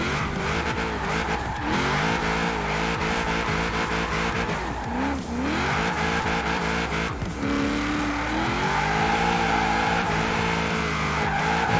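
Drifting car in Forza Horizon 4 at a drift club, the engine droning and revving with steady loud tire squeal through continuous slides, its pitch rising and falling as the car shifts between drifts.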